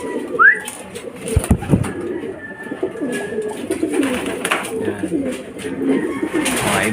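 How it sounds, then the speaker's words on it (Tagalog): Racing pigeons coo softly nearby in a loft, in low, throaty bursts, with a brief flutter and a loud thump early on amid light background activity. "Mga ibon natin mga kalapatids."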